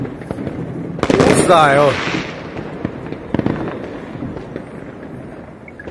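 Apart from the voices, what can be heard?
New Year's Eve fireworks exploding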